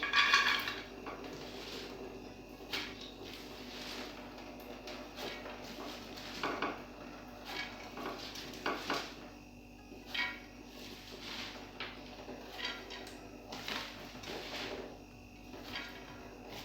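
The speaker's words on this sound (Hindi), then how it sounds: "अब हम इसको पतीले में डालेंगे।" Washed mustard greens for sarson ka saag go into a cooking pot, with faint clinks and clatters of metal utensils and rustling leaves recurring irregularly at a low level.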